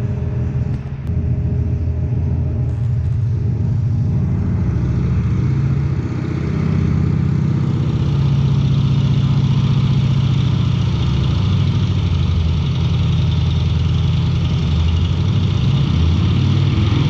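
A Harley-Davidson Iron motorcycle engine running steadily on a dyno during a fuel tune, a loud continuous low rumble with gradual shifts in pitch and no talking.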